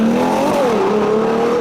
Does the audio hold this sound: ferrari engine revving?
yes